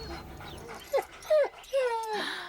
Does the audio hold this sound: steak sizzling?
no